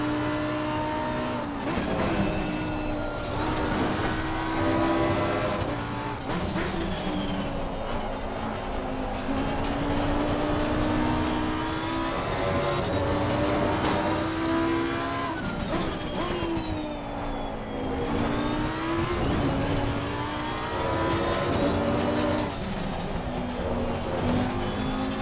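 A Lamborghini race car engine in the Assetto Corsa Competizione racing game at the Hungaroring circuit, a continuous loud engine note rising and falling through gear changes and corners, with occasional tire noise, no talking.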